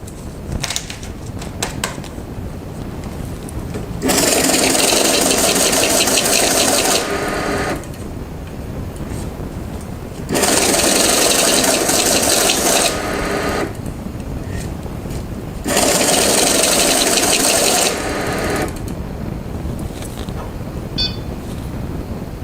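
A Cassida Advantec 75 professional banknote counter riffles through a stack of bills in three separate runs of about three seconds each. Each run is a loud, fast mechanical whir with quieter gaps between runs.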